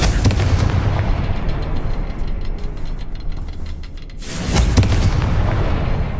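A Confringo fire spell bursts in Hogwarts Legacy, a loud booming explosion with dense rumbling crackle that dips briefly before a second heavy blast surges back in, no voices.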